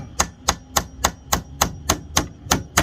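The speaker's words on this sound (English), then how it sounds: "give it a couple taps with my hammer, and allow these things to set in" A hammer taps a small socket to set rivets fastening a track to a boat gunnel, about ten evenly spaced sharp metallic knocks in a steady rhythm, close and alone.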